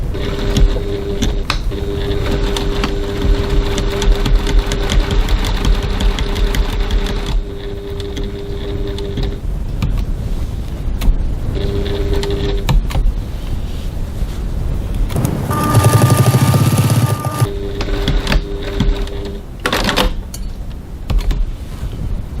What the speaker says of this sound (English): I'm going to stitch right next to that center seam